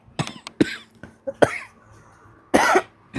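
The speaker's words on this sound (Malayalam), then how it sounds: "Sorry guys, ചുമയാണ്." A series of short, sharp coughs bursts out close by, irregularly spaced across a few seconds, ending in a longer, harsher cough.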